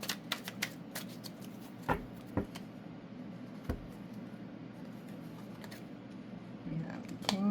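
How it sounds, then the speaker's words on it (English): Tarot cards riffle and snap together in a few quick bursts at close range, with a soft background hum between them. "One more shuffle."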